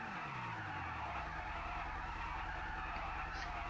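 A car in GTA 5 spins its tires to heat them before a drag race. The engine revs loudly, the tires screech in a long continuous squeal and the pitch falls at the start, then holds steady.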